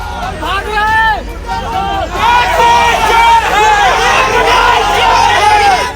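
A crowd of angry people shouting slogans while security guards lead a BJP legislator away in Dhule, Maharashtra: loud, continuous outdoor uproar of many overlapping voices, swelling in bursts of shouting.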